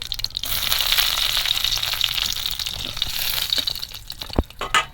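Five-spice (panch phoron) and two dried red chillies sizzle steadily in hot oil, a loud continuous crackling hiss that runs throughout, with a sharp clunk near the end.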